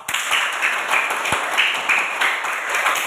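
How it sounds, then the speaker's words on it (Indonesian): Steady applause from a small group of classmates after a group presentation, many hands clapping together in a continuous patter with slight pulses of intensity. "beri tepuk tangan untuk kelompok 2"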